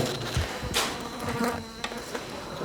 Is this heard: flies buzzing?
yes